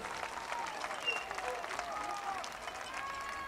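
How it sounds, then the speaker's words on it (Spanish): Scattered crowd applause rises at a Mexican bullfighting event, moderately distant and mixed with crowd noise and talking voices. "Carlos Orejel, güera de Jalisco, viene el aplauso porque se lo merece"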